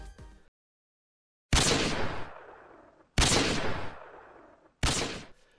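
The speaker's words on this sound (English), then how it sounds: "the PPSH, by far, had the most iconic firing sound in World at War" Three close, loud bursts of PPSh submachine gunfire from the video game Call of Duty: World at War, each a dense rapid rattle lasting under a second and separated by short silences.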